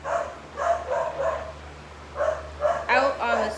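Dogs barking in the background, a few short barks in quick bursts, faint and somewhat distant beneath a person reading aloud.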